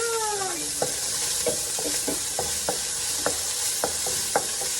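Onions sizzle in hot frying oil with a constant bright hiss, while a utensil stirs them in quick, irregular scrapes and taps against the pan, close up.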